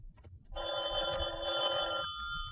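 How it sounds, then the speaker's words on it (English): A telephone bell rings in a radio drama, one steady, bright trill lasting about a second and a half, fairly quiet against a low background hum. "at 11:30 I was just about to turn in when the phone rang."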